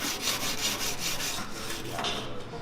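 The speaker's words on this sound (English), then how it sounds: "So let me go get a wire brush and I'll grind between that." Steady, abrasive scrubbing of a wire brush grinding down the gaps between welds on a 1960s Corvair being built into an off-road vehicle, a continuous close rasping that runs without pause.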